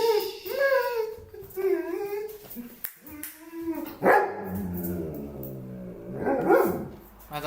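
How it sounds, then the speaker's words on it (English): A German Shepherd barks and whines in a run of varied, close calls, some drawn-out and howling, with voices talking in the background. "That's a German Shepherd"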